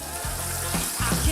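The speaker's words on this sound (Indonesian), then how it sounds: "Sambal penyet yang udah jadi, kita masukkan ke dalam wajan," Sambal penyet being stirred in a hot wok, a steady close sizzle of frying broken by a few scraping stirs, with no voices over it.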